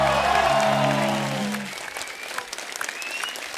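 A studio audience on a TV comedy show claps loudly for four young singers. The dense applause swells as a closing musical chord fades out, then continues alone at a slightly lower level.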